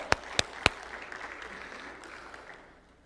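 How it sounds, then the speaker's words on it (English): Applause from an audience opens with three sharp claps, then settles into a softer, steady patter of clapping that slowly fades out. "let's clap for these guys, right?"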